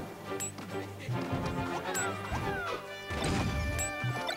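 Grenade explosions rattle through a Super Smash Bros. Brawl match with Snake against Olimar, a rapid string of sharp crashes and thwacks mixed with bright game sound effects and music, fairly quiet overall.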